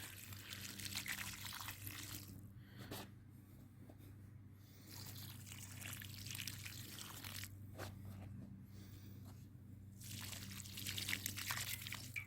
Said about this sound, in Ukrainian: приливаю водою